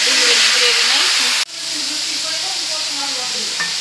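Onion gravy hits hot asafoetida tempering for pav bhaji with a loud, sustained sizzling hiss. The hiss dips sharply for a moment, then carries on steadily while a voice talks underneath.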